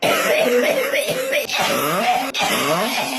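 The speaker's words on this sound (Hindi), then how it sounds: "मैं बहुत जोर से खांसने लगा" Harsh, forceful coughing in quick bursts after liquid went down into the lungs, with strained throaty breaths between them, close and loud.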